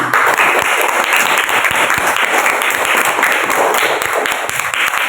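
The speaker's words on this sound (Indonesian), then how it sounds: "Ya, kasih tepuk tangan." A room full of people claps loudly and steadily, dense applause sustained throughout without a break.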